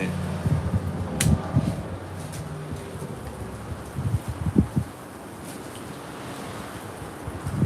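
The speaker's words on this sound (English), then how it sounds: "It's windy." Outdoors on a backyard patio, wind blows across the microphone with a steady rushing hiss, and someone talks intermittently under it.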